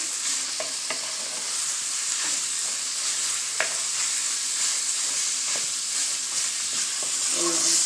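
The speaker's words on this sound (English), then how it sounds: "Now I'm giving a little stir. So I add a little browning for color." A Jamaican one-pot meal with browning added for color is stirred in a sizzling pot, steady hiss of frying under repeated spoon scrapes and clinks, close and even, no voices.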